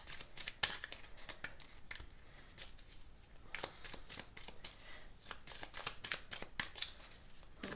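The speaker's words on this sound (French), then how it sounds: "Donc, on brasse, on brasse." Tarot cards are shuffled by hand in rapid riffling bursts of crisp papery flutters, near and moderately soft, repeating through the stretch with short pauses between them.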